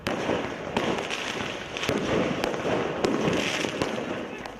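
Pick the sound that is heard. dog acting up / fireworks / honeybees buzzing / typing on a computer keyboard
fireworks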